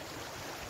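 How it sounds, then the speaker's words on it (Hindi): Stream water rushing steadily near a mountain village on a roadside stop, a loud continuous broadband wash of flowing water with no pauses. "ये यहाँ पे भी पानी काफ़ी ज़्यादा उसी साइड से आ रहा है सारा"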